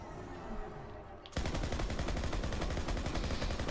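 Rapid automatic gunfire from Borderlands 3 erupts after a quieter stretch, a dense, continuous loud burst of shots lasting several seconds.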